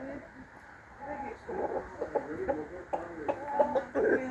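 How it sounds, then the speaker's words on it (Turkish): Chickens cluck in short, repeated bursts with a rooster's calls among them, fairly close, over a low background murmur. "Hay maşallah şu horozun güzelliğine bakın ya."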